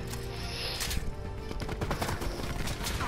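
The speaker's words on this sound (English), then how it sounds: "Shotgun." Shotgun and other gunfire crackles in a Black Ops 4 multiplayer match, with a burst of rapid shots and scattered blasts mixed with game effects, moderately loud and continuous across the few seconds.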